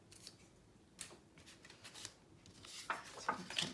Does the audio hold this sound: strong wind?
no